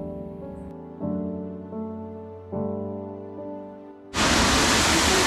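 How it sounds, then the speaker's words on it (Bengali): A Meghalaya cave-garden waterfall spills into a pool. After a stretch of steady tones, a loud, dense rushing roar starts abruptly near the end and holds without a break. "সেই জলটা এখন এখানে পড়ছে"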